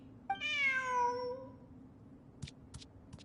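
A cat in Genshin Impact gives one clear, drawn-out meow, close and alone, followed by a few short faint clicks.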